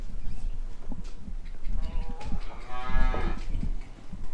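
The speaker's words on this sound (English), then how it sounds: "So now that we've got 2 head of cattle moved over" Cattle moo from a small herd on an icy farm while two head are being moved, giving several drawn-out, fairly close calls midway through amid rustling background noise.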